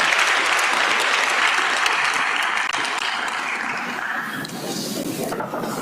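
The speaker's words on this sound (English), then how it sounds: "A round of applause for them, ladies and gentlemen." Conference audience at the Africa Youth Conference 2024 giving sustained applause, a thick continuous clatter of many hands that gradually thins toward the end.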